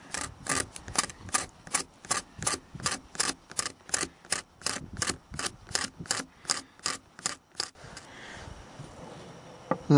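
A guitar pick scrapes shavings from wood for fire starting, producing a steady series of about twenty sharp, rhythmic rasping strokes close to the microphone, stopping near the end.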